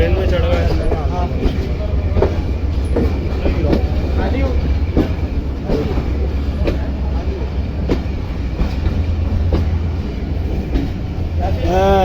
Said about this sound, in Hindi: ट्रेन में चढ़ गए